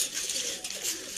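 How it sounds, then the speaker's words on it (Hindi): A second racing pigeon settles after landing in Sialkot pigeon flying and coos softly at close range, with quiet outdoor ambience and faint voices nearby. "ये दोस्तों माशाल्लाह दूसरा कबूतर बैठा है।"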